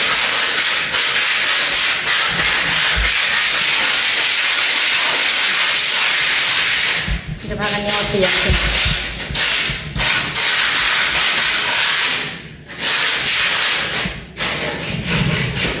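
The wooden walls of a house are sanded before painting, making a loud, harsh, continuous abrasive rasp close by. The grinding stops briefly a few times before it resumes.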